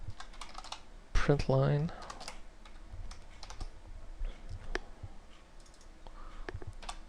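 Close computer keyboard typing, with rapid irregular key clicks throughout and a short stretch of speech over them partway through.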